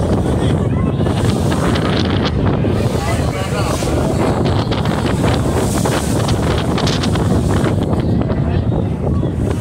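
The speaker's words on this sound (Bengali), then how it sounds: "এখান থেকে ঢেউটা দেখো জাস্ট।" Ocean surf at Kanyakumari, India's southern tip, rolls in under heavy wind buffeting the microphone, a dense continuous roar with surging waves and no clear speech.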